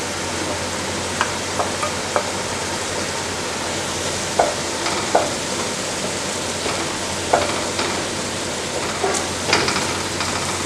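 Ginger sizzling steadily in hot oil with sautéed onions for Malabar chicken biriyani, a continuous frying hiss broken by occasional spoon clinks and stirring scrapes against the pan.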